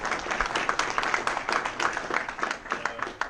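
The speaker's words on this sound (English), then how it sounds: "of applause for DeLone, man." A men's group audience gives a round of applause in a meeting room, a moderate, steady clatter of many hands clapping for a few seconds.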